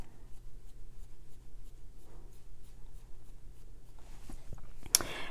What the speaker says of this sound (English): what I like to do with the pencil first is just outline my brow